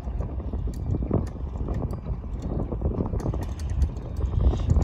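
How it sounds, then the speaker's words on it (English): Wind gusting across a river during a catfish fishing trip, buffeting the microphone with a steady low roar that swells and ebbs, loud and close throughout. "The wind's picking up even more."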